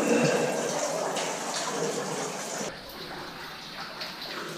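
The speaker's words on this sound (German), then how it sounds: "Hier kann man sehen, wie es von oben überall tropft." Water drips and trickles from leaking rock inside an abandoned mine near Bratislava, a continuous soft splashing wash with faint scattered drips, fairly close, with a brief shift in tone partway through.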